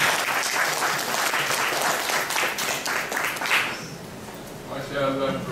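Audience applause at an Islamic lecture on environment and sustainability, steady dense clapping from a seated crowd that thins out toward the end as a voice begins to speak.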